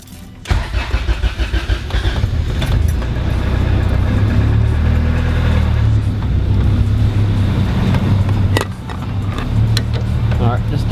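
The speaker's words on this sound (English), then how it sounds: "just to warm up the car" A car engine starts and runs while warming up, a loud, close rumble holding steady with a few clicks and knocks over it.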